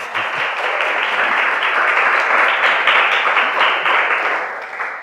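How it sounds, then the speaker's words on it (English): Loud, sustained applause from an audience welcoming guests to a design conversation event, an even wash of many hands that holds steady and then begins to taper at the end. "Let's give them a very warm welcome. Big clap."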